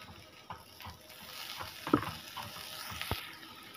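Chopped tomato hits hot oil with spice powders for prawn biryani, a soft steady sizzle with light stirring scrapes and a couple of sharper clicks from the pan, fairly faint and with no talking.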